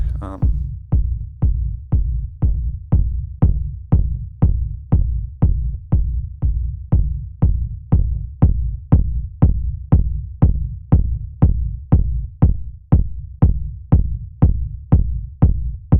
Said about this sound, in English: I sampled the rumble kick into an audio track